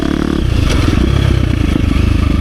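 A 2023 KTM 350 XC-F Factory Edition dirt bike rides in gear, giving a loud, close, continuous engine drone with wind and mechanical clatter and no talk.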